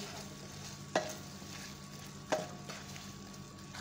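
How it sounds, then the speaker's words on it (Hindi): A soy sauce, sugar, salt and white pepper mixture for Chicken Manchurian is stirred quietly, with two sharp spoon clinks about a second apart over a faint low background. "अब इन तमाम चीज़ों को मिक्स कर लेंगे"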